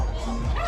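A dog gives a short yip or bark at a dog festival in Sri Lanka, close and brief, with crowd chatter around it.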